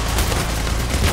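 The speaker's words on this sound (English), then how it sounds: "I just constantly hear explosions" Explosions and gunfire from the video game Payday The Heist roar in a dense, loud burst of rumbling booms and crackling shots lasting about a second.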